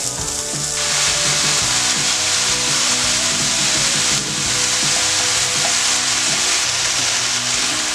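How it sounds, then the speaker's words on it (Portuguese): Sausage and onion frying in a pan, a loud continuous sizzle with stirring and scraping clatter close up, no voices. "E vamos fritar as linguiças até que elas fiquem tostadas."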